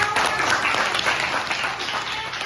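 Students in a school classroom applaud together, a dense, continuous patter of many hands at moderate level throughout.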